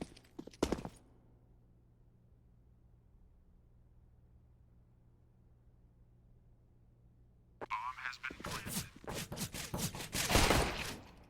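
Counter-Strike gunfire on the Mirage map starts with a short sharp shot, then after a quiet stretch a dense volley of loud, rapid shots erupts near the end, with talk alongside.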